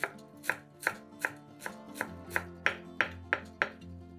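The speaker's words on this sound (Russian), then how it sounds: "Мелко нарезаем пучок укропа." A knife finely chops a bunch of fresh dill on a board: about ten crisp, evenly spaced, close chops in a steady rhythm over soft background music.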